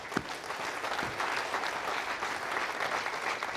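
Steady applause from the audience during a Vega rocket launch broadcast, dense and continuous at moderate loudness, with a few sharper claps near the start.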